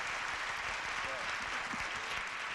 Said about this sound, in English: Little round of applause for you so this time.